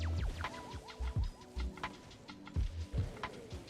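A bird in the video game Tower of Fantasy gives repeated clucks and coos in short bursts over soft game ambience.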